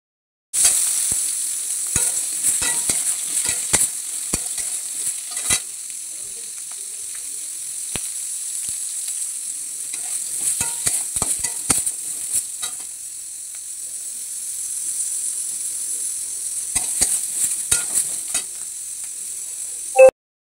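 Oats and lentil khichuri cooks in a pan with a cumin and dried red chilli tempering, giving a continuous close sizzle punctuated by frequent sharp clicks and taps of stirring, with no talking.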